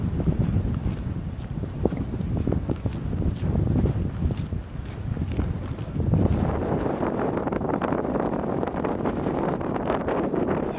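Steady wind gusts along the river Maas near Geulle rush and buffet a handheld microphone, a continuous broadband roar that swells and eases without any talking.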